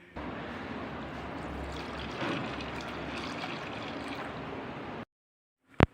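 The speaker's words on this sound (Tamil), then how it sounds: "ஒரு அரை டம்ளர் அந்த பருப்பு முங்குற அளவுக்கு தண்ணி ஊற்றிக்கலாம்" Water is poured from a tumbler over sambar lentils in a bowl, a soft steady trickling for about five seconds, then silence and a brief clink at the end.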